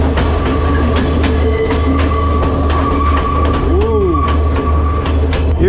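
A train to Kandy, Sri Lanka rumbles steadily along the rails with a constant low roar, rhythmic clacks and a brief metallic squeal, heard from inside a first-class carriage.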